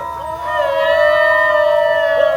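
Long, sustained howling from dingoes, several voices overlapping in steady rising and falling tones, loud and fairly near, with no talking.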